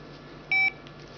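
A 1998 Motorola Jazz brick mobile phone gives one short, clear electronic beep as it powers on, standing alone over faint room hiss.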